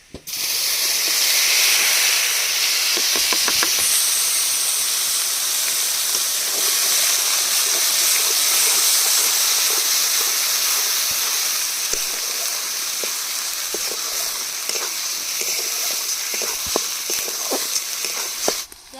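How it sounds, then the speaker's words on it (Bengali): Dry chillies, black cumin and whole garam masala sizzle in hot oil, a loud continuous hiss close by, with occasional small pops and taps throughout. "তেলের মধ্যে শুকনো লঙ্কা কালো জিরা আর গোটা গরম মশলা ফোড়ন দিয়ে দেব"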